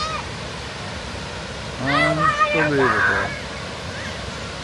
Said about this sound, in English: Oh yeah, there it is. The waterfall!